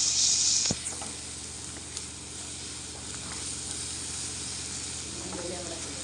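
Ground masala paste of garlic, ginger and whole spices sizzles as it fries in a pan of home-style mutton curry, a continuous steady hiss with a brief stirring clatter near the start and no talk.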